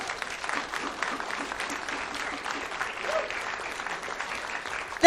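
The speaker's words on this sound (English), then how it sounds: "Please give them a round of applause." Steady audience applause fills the room at a St Kilda ward candidates forum, a dense, even wash of clapping from a mid-sized crowd lasting throughout, with no talk over it.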